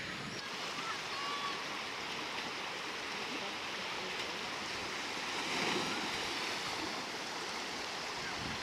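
A river current flows past a riverside village in North Bengal, giving a continuous broad rushing wash at moderate level that swells slightly midway, with no voices over it.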